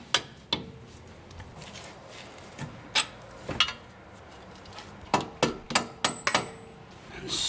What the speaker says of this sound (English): Tap the bolts out.